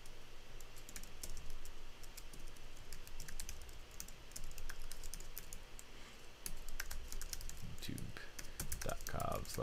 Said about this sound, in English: So I'm typing to them.